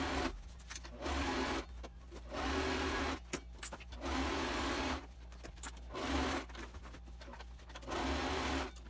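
A sewing machine stitches waterproof fabric for a backpack, topstitching over the outer fabric. Its motor hum comes in several steady bursts of a second or so, separated by short pauses.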